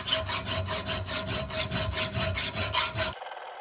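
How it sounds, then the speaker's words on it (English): A round file rasping at holes in a metal drill press motor mount plate, with steady, evenly paced back-and-forth strokes, close and fairly loud, stopping abruptly at the end. "I'll just elongate these holes just slightly with a round file"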